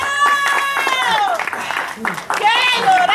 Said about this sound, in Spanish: ¡Y un aplauso para Estelaris!